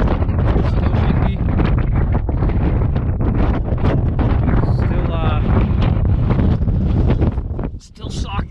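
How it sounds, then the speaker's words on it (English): Strong gusting wind buffets the microphone on the summit of Mount Lafayette, a loud, roaring, continuous rush with brief dips, while a voice talks faintly under it. "Still windy."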